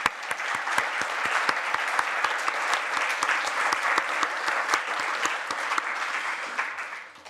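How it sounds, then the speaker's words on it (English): A conference audience at the closing session of an annual humanitarian gathering breaks into sustained, even applause for support staff and interpreters, filling the room for about seven seconds before tapering off. "I suggest a round of applause"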